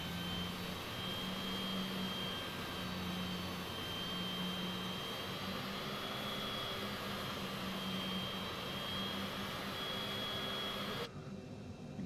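An airliner taxis toward the runway in Microsoft Flight Simulator 2020 with a steady, droning jet engine hum and a faint high whine, continuous and even until a slight drop near the end.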